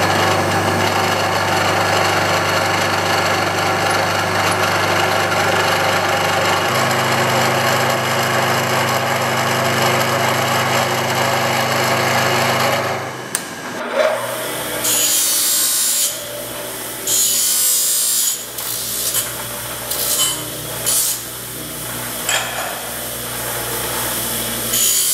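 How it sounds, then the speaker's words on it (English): A 5/8-inch (16 mm) five-flute end mill turning at about 1200 RPM, hand-fed to square a metal edge: a steady machine hum gives way to loud, intermittent bursts of cutting chatter. "we're about 1200 RPM, and that's a 5/8 diameter end mill, 5-flute, 16 millimeter diameter end mill"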